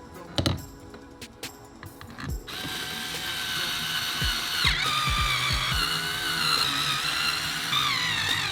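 A ratchet works on the steering wheel bolts of a third-generation Camaro, giving a few sharp clicks and knocks, then a sustained buzzing mechanical whir with repeated clicking pawl sounds underneath, close and fairly loud.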